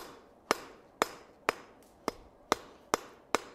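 A hammer rivets a hot forged box-jaw tong blank, dome side down. Seven sharp, ringing blows land close by at a steady rhythm, about one every half second, with no voices.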